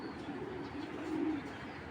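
Racing Giribaz pigeons coo in a low, soft, continuous murmur that swells slightly near the middle, set against steady background noise and close by.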